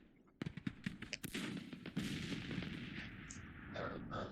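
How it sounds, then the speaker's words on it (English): Artillery fire in the Civil War strategy game Grand Tactician: a burst of sharp booms and cracks in the first half, followed by a sustained rumbling roll of distant cannon fire, moderately loud. "letting the artillery do their thing."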